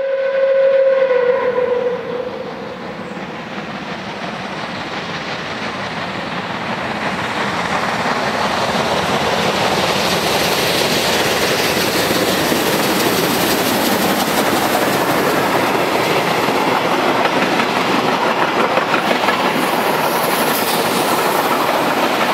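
Oil-fired German steam locomotive DB 01 1100 (later 012 100-4) running on rails, opening with a brief whistle blast, then a loud, continuous rumble and rhythmic clatter of the train passing close by, with no talk.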